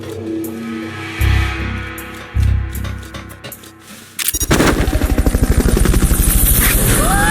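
A helicopter in the video game Metal Gear Solid Peace Walker, with rhythmic rotor chopping rising loud and close after a few low booming game sounds.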